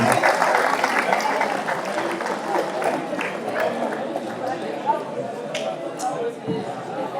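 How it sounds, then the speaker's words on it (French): Steady crowd applause at an enduro mountain-bike podium ceremony, dense and sustained throughout with a few louder claps and whistles near the end, a crowd murmur beneath. "applaudissements s'il vous plaît pour notre néerlandais"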